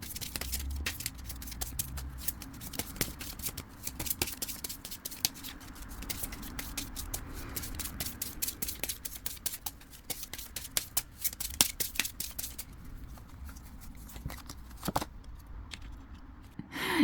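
Tarot cards are shuffled close by in a quiet room, with soft riffling and sharp card snaps repeating irregularly over a long stretch, and no voices.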